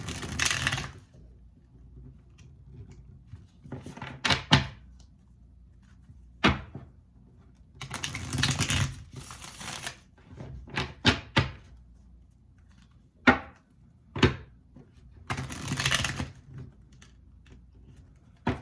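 Brisk bursts of tarot card shuffling repeat several times with quiet gaps between, alongside a few sharp single snaps and taps, close by with no talking.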